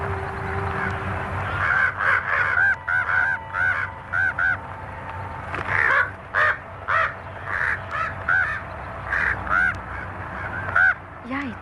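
Crows cawing around a church, harsh repeated caws in irregular bursts, fairly close and loud, over a low ambient background with a tonal drone.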